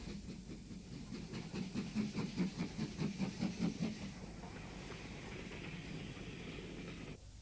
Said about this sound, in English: The Class 4 is on duty today and takes its turn to haul heavy trains up the incline to the south of the station.